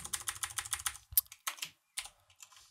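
Rapid keystrokes on a computer keyboard, a quick regular run of clicks followed by a few sparser, separate taps, close and clear with no talking.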